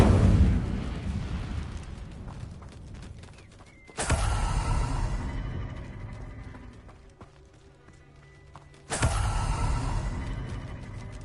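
Incendio fire spell cast in a Hogwarts wizarding game, two sudden loud whooshing bursts of flame that fade into crackling, each followed by quieter ambient game sound.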